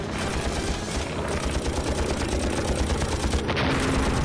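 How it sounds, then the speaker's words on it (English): Machine guns on a WWII Messerschmitt Me-109 fighter and a pursuing fighter fire in a continuous dense rattle of rapid bursts, loud and close with a droning engine underneath, and no voices. "there's the Me-109 shooting at Pruitt, and there's me shooting at him."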